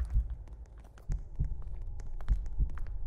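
Heartbeat sound effect in a Roblox game, low muffled thumps at an irregular pace over a soft hum, with faint clicks, fairly quiet and with no talking.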